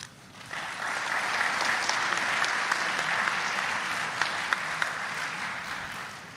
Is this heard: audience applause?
yes